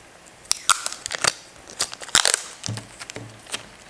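Packing tape being cut at a crafting table on a cutting mat, a run of short crisp snips and crackles close by, irregular and fairly loud, with no talking.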